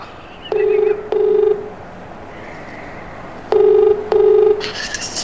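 A phone ringback tone on a call sounds in two pairs of steady electronic rings, clear and fairly loud, with a short quiet gap between the pairs.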